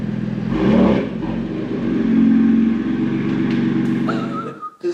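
A BMW M4 on a test drive gives a loud, close engine and drivetrain drone that swells and eases, with a sustained whining whir on top and a brief higher whistle near the end.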